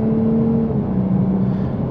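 A 2022 Lexus IS 350 F Sport with a 3.5L V6 revs while driving, heard from inside as a loud, steady engine drone whose pitch shifts slightly.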